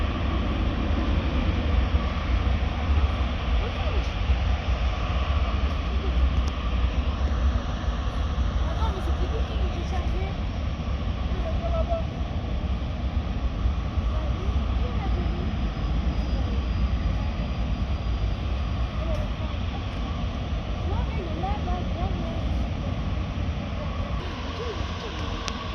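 Airliners taxiing toward the runway at Paris Orly airport, including Air France and Air Caraïbes Airbus jets, give a steady, continuous engine roar and rumble that holds at a constant level throughout, with a voice talking over it.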